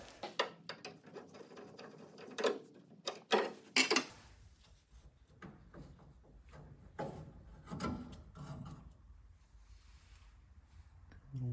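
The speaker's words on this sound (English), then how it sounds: "I see a flathead screw right here, so let's take that out" Flathead screw being worked out of a 1963 Corvair's front end: close, intermittent scraping and ticking of a screwdriver against metal, with small clicks and rubs in irregular bursts and quiet gaps between them.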